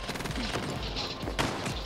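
Shotgun blasts boom in an Xbox One video game, several loud cracks in quick succession that crash over a dense, noisy game soundscape with no speech.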